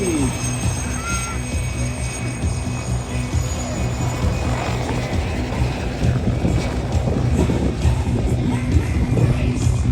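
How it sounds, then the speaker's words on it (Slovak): Helicopter flying aerobatic manoeuvres at an air show in the Košice region, a continuous low rumbling drone mixed with wind noise, steady and fairly loud throughout, with no clear rotor beat standing out. "Lajo Žimre v podstate lieta s tým vrtuľníkom tak, ako by sa s ním lietať vôbec nedalo."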